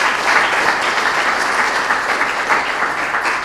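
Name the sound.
audience applause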